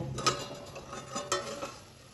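Pumpkin chunks stirred by hand in a covered pan, with a few soft clinks of a spatula or spoon against metal over a faint background hum.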